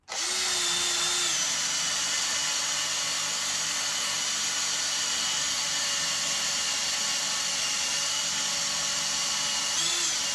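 A power sander whines steadily on a car wheel rim, a continuous high-pitched motor tone held for about ten seconds with a brief pitch dip at start and end, close and loud with no voices.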